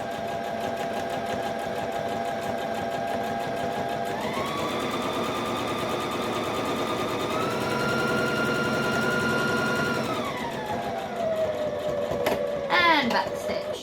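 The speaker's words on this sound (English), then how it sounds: "I'm just going to sew on the line" Sewing machine stitching fabric along a marked line for a small dice bag, a steady close motor whir that rises in pitch midway, then slows and stops, followed by a brief clatter.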